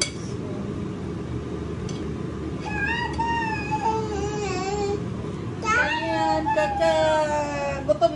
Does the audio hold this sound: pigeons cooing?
no